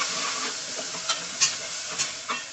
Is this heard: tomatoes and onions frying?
yes